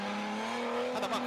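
Drift car at Tsukuba in a D1GP round, its engine whining loud and steady as it builds speed, with a rougher roaring surge near the end.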